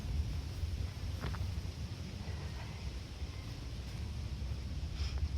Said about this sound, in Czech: Trošku fouká větřík.